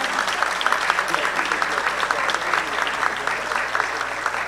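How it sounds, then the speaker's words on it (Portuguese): Sustained applause from an audience at a university rector candidates' debate, an even, dense patter of many hands clapping for several seconds with a faint steady hum underneath and murmuring voices mixed in. "Acho que merecem mesmo muitas palmas"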